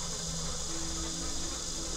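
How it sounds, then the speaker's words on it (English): Dense, steady whine of a mosquito swarm over a swamp in The Journey Down adventure game, a continuous high insect drone holding level from start to finish with no voices. "I would have been eaten alive by all these mosquitoes"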